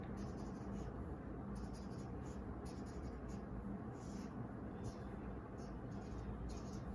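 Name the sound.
pen drawing a simplified circuit diagram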